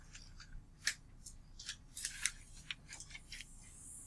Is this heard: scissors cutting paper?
yes